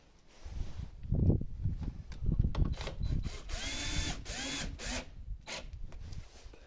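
Small Phillips screws being driven back into the plastic threads of a car tail light housing with a power driver, in several short whirring bursts with clicks and handling noise between them, close by.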